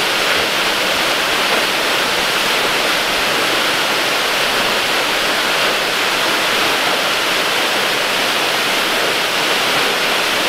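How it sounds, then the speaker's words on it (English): A waterfall at a New York cliff-jumping spot roars steadily and loudly throughout, a dense, unbroken rush of falling water with no voices. "between the first and second waterfall"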